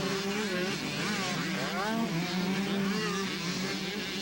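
Several motocross bikes at a 1992 county fair race, including a Kawasaki 125cc and an 80cc machine, whining and revving together in overlapping rising and falling engine tones, loud and continuous, with a faint voice now and then.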